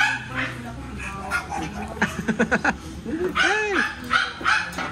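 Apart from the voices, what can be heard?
dog barking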